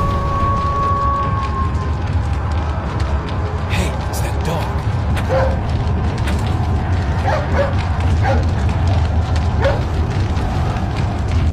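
A video game dog barks and yips in quick bursts during a fight with a giant, over a busy rumble of game sounds and creaking mechanisms.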